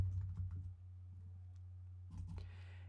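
Code being typed on a computer keyboard, a quick burst of soft key clicks at the start and another short flurry near the end over a low steady hum.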